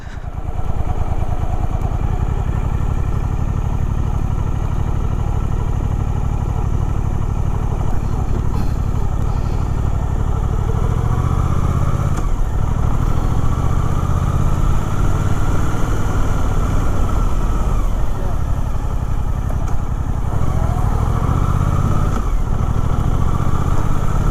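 A Suzuki GSX-8R motorcycle engine labouring at low RPM while climbing an incline, a steady, dense low rumble that holds loud and close for the whole stretch with no clear speech.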